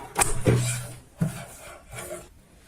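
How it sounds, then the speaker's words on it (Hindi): Scissors trim the half-inch fabric margins around a stitched cushion cover, making a few close, rasping strokes separated by short pauses. "अब हम यहाँ पे आधा इंच का मार्जिन रखते हैं और चारों साइड से कटिंग कर लेते हैं इस प्रकार से"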